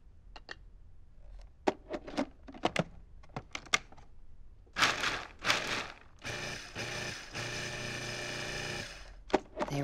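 Pecans and all-purpose flour in a food processor: sharp pulse clicks, then a few seconds of loud continuous grinding whirr, followed by another click.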